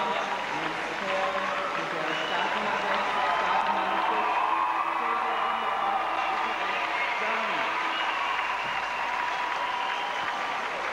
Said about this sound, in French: Les applaudissements ne manquent pas pour saluer le couple allemand Sylvia Dimitrov et Rico Rex